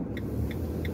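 A camper van drives along a road, its engine and tyre rumble a steady low drone throughout, with no talking.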